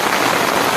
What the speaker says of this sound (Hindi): पूरी तेज बारिश हो रही है।